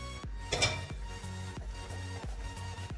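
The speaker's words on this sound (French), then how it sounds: "On ne va pas arrêter de remuer." Caramel being stirred in a pan, with repeated utensil scrapes and clinks against the metal recurring roughly every half second, close and moderately loud over a steady low background.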